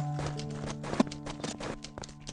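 Horse hooves clip-clop in the farming video game Meadowcroft Farm: a quick, even run of soft hoofbeats over steady game music, fairly quiet and close.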